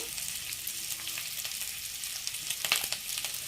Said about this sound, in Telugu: ఇలాగా సిమ్లోనే వేయించుకుందాం